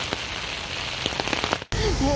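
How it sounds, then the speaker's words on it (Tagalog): Steady rain patters down at Camp John Hay in Baguio with scattered drips and light crackling taps, briefly cutting out before resuming as a full, close downpour. "Umuulan na naman."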